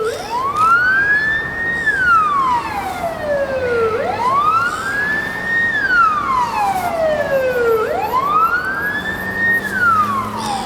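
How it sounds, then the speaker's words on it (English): An emergency vehicle siren wails in long, loud rising and falling sweeps, repeating about three times as it passes close by over steady traffic noise. "emergency car."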